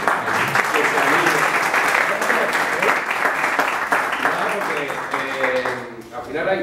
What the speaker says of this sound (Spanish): Yo le voy a pedir un aplauso.